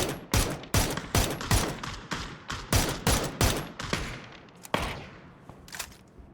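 Gunfire in an online team match between Polish and Ukrainian players, a string of loud, close, evenly spaced shots with echoing tails, thinning out toward the end.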